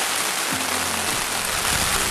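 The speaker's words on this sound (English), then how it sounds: "It's raining at Kern River." Rain falls at the Kern River, a steady close wash of broadband hiss with a faint low hum beneath, continuous throughout.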